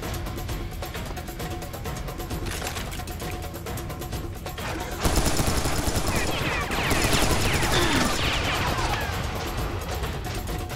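Gunfire in Serious Sam 3, a dense rapid mechanical rattle of shots that gets louder and busier partway through, over steady game sound, with some talk faintly present.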